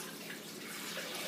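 Water is poured into a crock pot, four cups at once, making a steady, hissing splash that runs unbroken throughout, close and alone.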